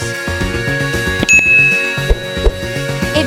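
A bright notification bell ding rings out once, clear and ringing, over a lively musical backing with a steady beat.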